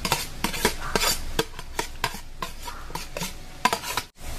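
Onion and garlic sautéing in melted butter for buttered garlic crab: a steady stirring rhythm of spoon scraping the pan, with repeated sharp clacks of utensil on metal over a soft background sizzle, close and moderately loud.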